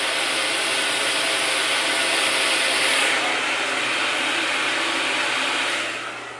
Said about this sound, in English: blow dry around here so I can make sure this is a little bit